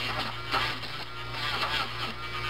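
A Dremel rotary tool smooths the burr around a drilled hole on a slot car chassis, giving a steady, close high-pitched whir with a constant low hum underneath that holds even for the whole moment.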